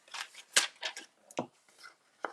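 Ordinary household scissors snipping through the paper backing of a gilded leafing sheet: several short, crisp cuts in quick succession, close and fairly quiet, with no talking.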